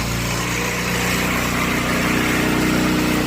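A restored Tao Tao 150cc ATV engine idles slightly high, a steady close mechanical drone with an even rapid pulse and no pauses.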